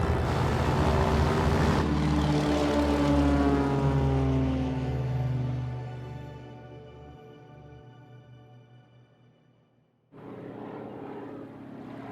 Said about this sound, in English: We took a bush plane to get into this location.